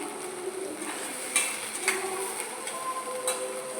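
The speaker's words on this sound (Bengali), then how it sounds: "তো এটাকে একটু নেড়ে চেড়ে নিচ্ছি" Food being stirred in a pan makes soft, scattered scraping and a few sharper clinks of a utensil against metal, over a faint continuous background hiss.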